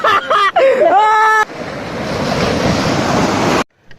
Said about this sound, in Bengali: হঠাৎ এইদিকে খুব উত্তাল ঢেউ হচ্ছে